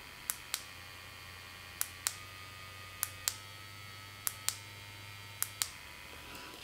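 A cat paw electric facial cleansing brush running: a faint, steady low motor hum that cuts out near the end. Pairs of sharp clicks repeat every second or so over the hum, like buttons being pressed.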